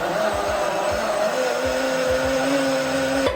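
A blender whirs at a steady high pitch, blending a strawberry and banana smoothie with milk, close and loud, with a pulsing low churn underneath before it cuts off at the end.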